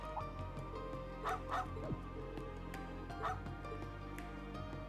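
In the video game Trails into Reverie, the dog Cerberus gives short yips and whimpers over a steady game music bed, a few soft barks spaced across the moment.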